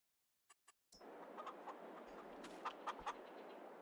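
Chickens cluck on a chicken farm in a farming video game, a few quick isolated clucks followed by a continuous farmyard hum with several more distinct clucks near the end.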